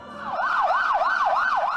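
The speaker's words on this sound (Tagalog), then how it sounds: "isa-isa nang nagdatingan ang mga ambulansya at fire truck." Ambulance and fire truck sirens wail loudly during an earthquake drill at a mall, with a rapid, rhythmic rising-and-falling tone repeating close by.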